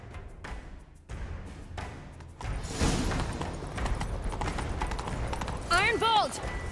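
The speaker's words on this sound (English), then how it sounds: "Grab a horse, we'll chase him down." Rhythmic hoofbeats of a galloping horse in The Witcher 3 grow louder over ambient game sounds, with a brief whoosh-like flourish near the end.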